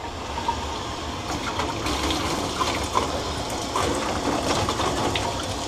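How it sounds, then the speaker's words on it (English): Running water rinsing submersible lab pieces at a sink, a steady moderate gush with small splashes and clinks against the flow, no voices. "So I'm just simply going to rinse those off."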